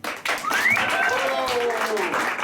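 Studio guests on a Nashville country radio show clap along while a voice talks over them, the clapping a steady busy wash under rising, sliding speech.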